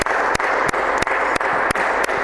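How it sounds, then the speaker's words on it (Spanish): Steady applause from a crowd of hands clapping, a dense continuous wash of claps with a few sharper spikes recurring at regular intervals, close and fairly loud throughout. "Solo puedo aplaudir"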